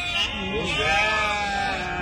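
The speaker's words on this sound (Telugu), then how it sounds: "గొర్రెలు" Sheep bleating among a crowd at a Saturday livestock market in Angallu, the cries overlapping continuously and close, mixed with nearby people talking.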